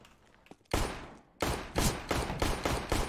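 Gunfire in a FACEIT competitive shooter match, a loud close burst followed by a run of rapid evenly spaced shots, sharp and dense, with no talk over it.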